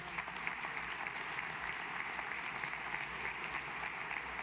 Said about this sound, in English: Everybody can give a big round of applause